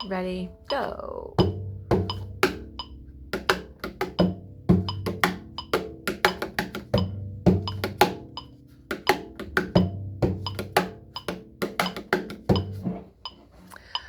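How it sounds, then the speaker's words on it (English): Regular metronome clicks keep a steady beat under a rhythmic cello groove played with percussive, ricochet-style bowing, with a brief spoken count-in at the start. "So I'll do it with a metronome now so you can hear it."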